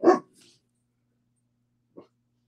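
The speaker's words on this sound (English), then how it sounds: "It wouldn't be alive here if there were not dogs barking at some point." A dog lets out one sharp, loud bark, followed by a couple of faint short yips in an otherwise quiet room.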